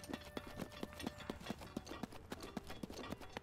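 Horse hooves clip-clop in a steady, rhythmic gait in The Legend of Zelda: Breath of the Wild, each footfall crisp and evenly spaced over soft game music.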